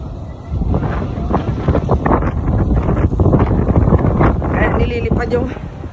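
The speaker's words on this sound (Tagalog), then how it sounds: "Grabe ang lakas ng hangin!" Strong wind buffets the microphone in loud, gusty rumbles at a condominium in Mandaluyong, Philippines, with people talking over it throughout.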